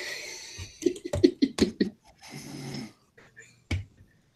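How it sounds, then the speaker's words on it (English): A person snoring in a quiet room, a few rough, rattling snores in a quick run, then a longer drawn breath and one last snort, close and fairly soft. "You show up on the Insomniac sleep hour, you get to hear snoring."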